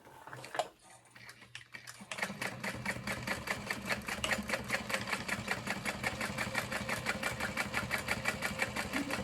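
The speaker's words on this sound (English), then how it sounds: "I'm just adding a couple little back stitches to help reinforce all of that" A sewing machine runs steadily, stitching through backpack fabric with rapid, even needle clatter after a brief pause of lighter handling noises, laying short reinforcing lock stitches up close.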